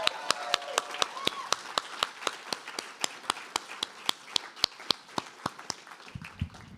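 A small number of hands clap in a steady, evenly spaced rhythm at a faculty reading event, each clap crisp and distinct against a quiet room, with a brief low rumble near the end.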